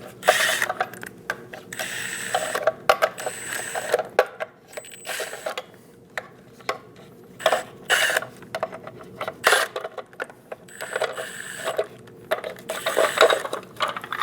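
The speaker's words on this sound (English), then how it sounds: "Using a 21mm socket, remove all of the lug caps for the center cap." A 21mm socket on a ratchet wrench removing the lug caps from the center cap of a 2001-2006 Chevrolet Silverado 2500 HD rear wheel, with close, rapid ratcheting clicks in repeated bursts separated by brief pauses.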